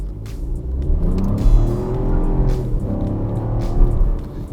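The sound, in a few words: Chevrolet Trax 1.2 engine accelerating hard from standstill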